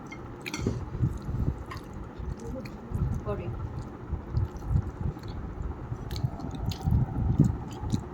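Close-up chewing of crispy fritters made from potato and pointed gourd peels with bitter gourd greens, eaten with dal. Soft, wet squishing bites and mastication continue steadily throughout.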